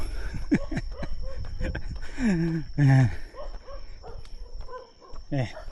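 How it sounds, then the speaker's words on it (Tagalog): Several dogs bark and yelp nearby in short bursts during an uphill stretch of a 21 km road run on Boracay, mixed with other outdoor noise. "pansin ko dito, daming aso."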